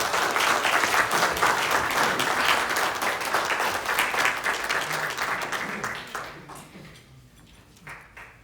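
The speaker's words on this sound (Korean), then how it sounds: "뜨거운 박수 부탁드립니다" A forum audience at the Jeju Chamber of Commerce gives a vice minister a full, warm round of applause. The clapping tapers off after about six seconds, leaving a quieter room with a few scattered sounds.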